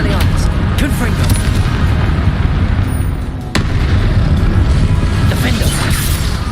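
Confringo spell explosions in Hogwarts Legacy during a dense, loud battle, with continuous rumbling booms and crashes, sharp bangs and constant din, a clear cut partway through.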